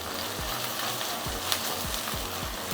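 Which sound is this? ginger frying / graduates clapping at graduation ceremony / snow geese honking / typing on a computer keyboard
ginger frying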